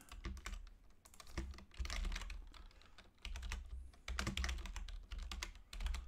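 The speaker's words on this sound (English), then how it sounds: "I'm a loud typer, just so you guys know. A keyboard masher, if you will." Loud, hard typing on a computer keyboard comes in rapid close bursts of clattering keystrokes, separated by short pauses, with no talking.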